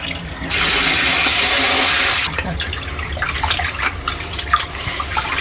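Rice is washed in water: a steady loud rush of water pours for about two seconds, followed by close sloshing, splashing and swirling in a vessel.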